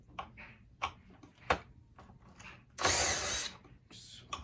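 A cordless drill undoes screws on the fan motor mount of a Hoover Elite vacuum, giving short ratcheting clicks and brief bursts before one sustained, louder whir of the drill spinning near the microphone.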